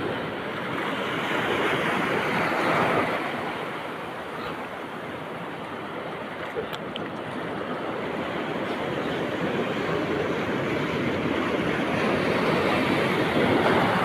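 Ocean waves wash steadily onto a beach during a shoreline net-fishing outing, making a continuous broadband roar that swells and eases with the surf, with a little wind and no voices.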